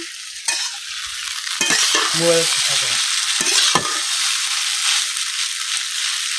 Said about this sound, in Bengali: নুডলসটা কিন্তু আমি অনেকক্ষণ ভাজে নিছি